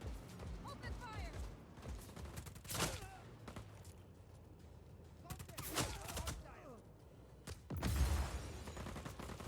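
Gunfire in the video game Just Cause 4: bursts of rapid shots and heavy blasts crackle in repeated waves over a rumbling game soundscape, loud and close, with voices calling out between the bursts.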